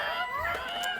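Chickens in a hen house cluck and squawk close by in a short, busy burst of overlapping calls.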